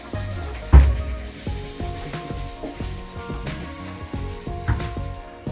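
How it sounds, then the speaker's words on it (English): Repeated rubbing and rasping strokes of sanding on plastic car headlights scrape in an uneven rhythm, close up, outdoors in pouring rain that makes a steady background hiss. "just sanding my headlights"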